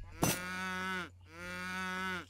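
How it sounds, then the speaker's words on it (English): Two long, loud cow moos from livestock in the video game Age of Empires III, one after the other with a short gap between, heard alone without talk. "And we got cows here."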